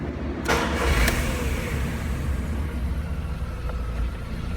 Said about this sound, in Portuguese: Vamos ligar o carro agora.